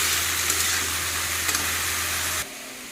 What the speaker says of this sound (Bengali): এদিকে শাকটা ভেজে নিই